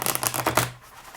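Ripple shuffle of an oracle card deck, up close: a quick burst of crisp riffling card flutters that settles into a softer tail as the cards come together.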